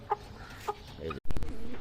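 A rooster gives a few short, close clucks while being fed, followed by a sudden burst of louder scuffling and pecking noise.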